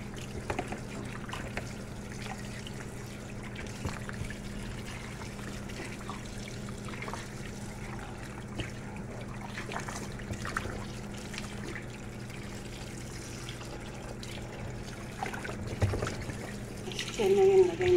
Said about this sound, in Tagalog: Kailangan hugasan ng mga yung karne para matanggal yung dumi saka langsa para masarap siya pag iluto.